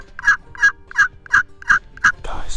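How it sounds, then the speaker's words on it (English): A wild turkey gobbler in North Carolina woods calls in six evenly spaced sharp notes, loud and clear. A gust of wind noise follows at the end. "I just heard this bird gobble off of that crow"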